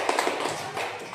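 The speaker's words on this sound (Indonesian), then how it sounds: "tepuk tangan untuk kita semua dulu" A classroom of pupils clapping together, a dense, quick patter of many small hands heard from across the room, brief and moderately loud.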